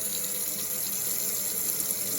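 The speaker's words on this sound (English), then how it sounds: "you're gonna fill it up" Water from a kitchen tap fills a measuring cup in an even, unbroken rush and gurgle, moderately loud and close, with no voices over it.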